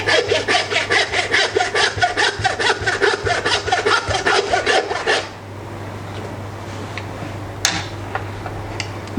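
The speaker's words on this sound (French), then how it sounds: "Un petit trait de scie." A handsaw cuts through the sternum bone of a meat carcass with rapid rhythmic rasping strokes, about twenty in a row, close and loud, then stops, leaving quiet room tone with a few faint clicks.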